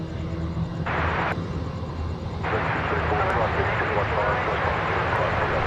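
An aircraft arriving at Sydney Airport at night produces a steady engine roar that swells in the latter half, while people talk over it.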